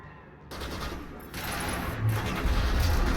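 Rifle fire in Mass Effect, with bursts of rapid shots crackling over a noisy rumbling backdrop that grows denser through the short stretch.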